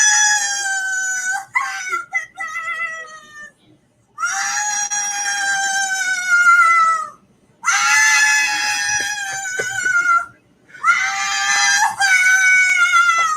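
A woman screams in four long, shrill, sustained bursts separated by short gaps, loud and close, with no other voices.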